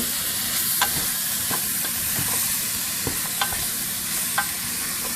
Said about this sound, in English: we're just going to saute these up a little bit